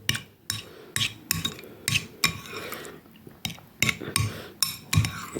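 A spoon stirs a coffee dessert mixture in a bowl, knocking and clinking against the sides in a steady repeated rhythm, close up and moderately loud with no talking.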